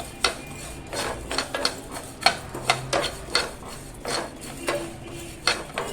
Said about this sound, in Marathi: दोन चमचे बडीशेप दोन चमचे जिरं आणि अर्धा चमचा काळी मिरी हे आपण ना थोडं गरम होईपर्यंत भाजून घ्यायचं आहे